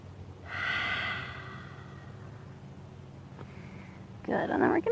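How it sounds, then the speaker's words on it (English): During a grounding yoga session, a slow exhale through the mouth comes early as a soft breathy rush, followed by quiet room tone, then a sharper, louder breath sound near the end. "Breathing out through the mouth."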